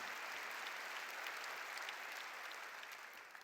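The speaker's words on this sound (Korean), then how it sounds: "읽은 사람만 박수를 하게" A church congregation applauding during a New Year revival sermon, dense continuous clapping from a large crowd, even and steady, fading slightly at the end.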